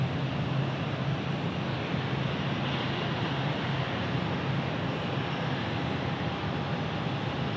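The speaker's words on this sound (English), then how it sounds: "American Airlines from Washington Reagan landing here" An American Airlines plane arriving from Washington Reagan lands at Phoenix Sky Harbor Airport, giving a steady, fairly faint, distant engine rumble and roar that stays even throughout.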